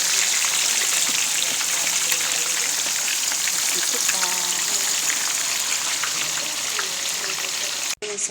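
Fish sizzles loudly in hot oil, a dense steady crackle with a few faint voices underneath, cut by a brief break near the end.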